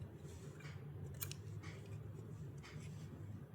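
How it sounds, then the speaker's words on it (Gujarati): Scissors snip crochet thread on a small flower hair accessory, a few quiet, close cuts over a faint steady background hum with no talking. "એક ચેન લઈને આપણે દોરો કટ કરી લેવાનો છે."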